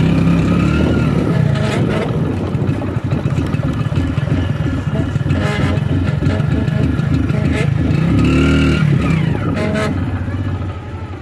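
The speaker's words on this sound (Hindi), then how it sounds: "आप देख सकते हैं कि आवाज़ बहुत एकदम झटका दे देकर गाड़ी चल रही है" A motorcycle engine running out of petrol sputters and jerks, its uneven, stuttering chugging loud and close throughout with a voice speaking over it.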